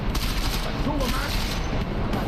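Rapid gunfire in the video game Deus Ex: Mankind Divided, dense bursts of shots and booms in a loud fusillade, with a voice talking over the shooting.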